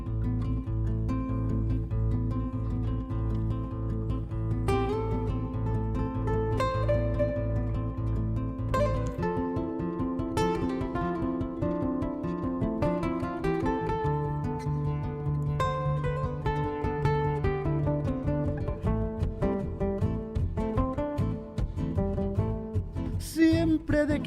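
A lounge-style music loop builds with a low bass line under sustained chords, joined by layered melodic parts; the texture grows busier partway through and plays steadily throughout.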